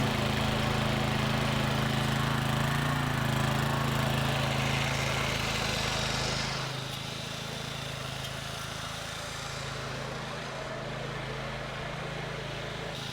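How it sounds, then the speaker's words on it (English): A walk-behind lawn mower runs steadily and loud up close with a constant engine drone, easing slightly quieter and lower partway through as it keeps going for a mid-season mowing job. "I'm gonna use the walk behind because it gives such a superior cut than the ride-on mower"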